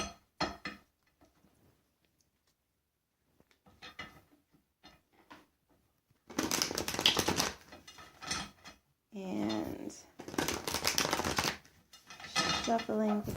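Tarot cards being shuffled, bursts of riffling, rustling card noise in the second half, preceded by quieter handling and brief speech.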